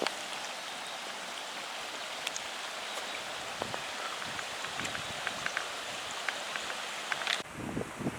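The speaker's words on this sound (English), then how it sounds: "if you listen real quiet in the movie, you can hear this water running" A small stream runs near a Dances with Wolves filming site, a soft, steady trickle and patter with scattered drips, heard close and fairly quiet with no talking.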